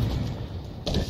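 Weapon reload in Halo Infinite: a short mechanical clack and slide of metal parts, a steady rumble underneath, then a sharper double click near the end.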